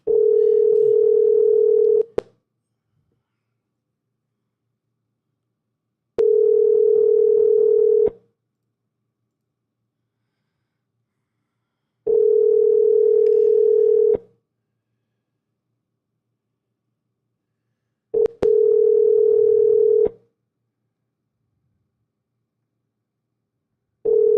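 A telephone call tone, a steady ringback purr, repeats five times in even pulses of about two seconds, each followed by roughly four seconds of silence. It is clear and close, with no voices.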